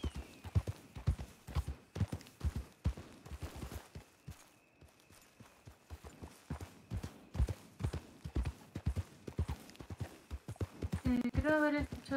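A horse's hooves clip-clop in a steady walking rhythm during a pre-training session, close and distinct, with a brief voice near the end.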